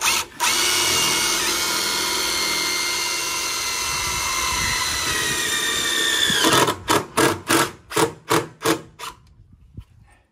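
A power drill whines steadily for several seconds while driving metal screws into composite cladding on steel stairs, then gives a rapid series of short bursts as the screw seats. The sound is close and loud.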